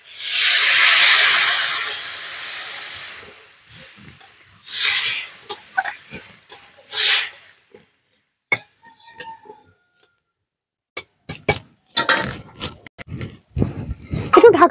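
Water poured into a pan of frying drumsticks and potatoes bursts into a loud, close hiss that fades over a few seconds, followed by scattered quieter sizzles, bubbling and clatter.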